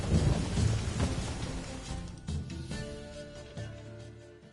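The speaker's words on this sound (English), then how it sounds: "The storm, damn it." A thunderstorm with rain in The Witcher 3, a heavy rumble of thunder rolling loudly at the start and fading, with steady rain pattering beneath as the roar dies down.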